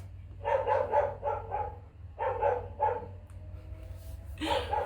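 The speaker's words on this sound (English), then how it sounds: "my neighbor's dogs, you have to love them. They always come when I'm filming" Neighbor's dogs bark next door in bursts of three or four, somewhat distant, pausing between volleys, over a low steady hum.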